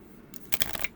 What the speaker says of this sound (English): so shuffling, depending on if your hands are big enough to hold the cards, shouldn't be an issue on shuffling